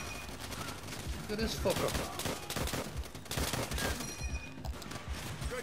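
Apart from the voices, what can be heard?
machine gun fire in video game World at War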